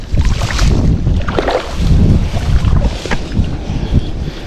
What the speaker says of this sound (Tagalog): Rumaragasa na yan. Tsaka lumakas po yung agos lalo.